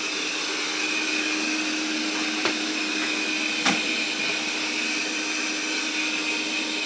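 An iHome NOVA LiDAR robot vacuum with a self-empty bin runs on its first cleaning pass, giving a steady whirring suction drone with a high whine, interrupted by two brief knocks, alone and without speech.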